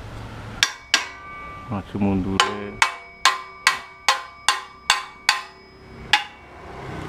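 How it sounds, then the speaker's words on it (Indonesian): A hammer strikes repeatedly while a CB radio antenna is being assembled, about a dozen sharp, ringing metallic blows in a steady rhythm, close and loud, with a brief bit of speech and handling noise early on. "nek jeneng masang ngene iki tetep nganggo palu lur"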